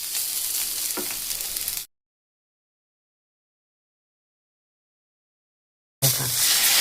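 Thin slices coated in turmeric and salt fry over a low flame, giving a steady close sizzle that cuts to total silence for several seconds before the hiss resumes.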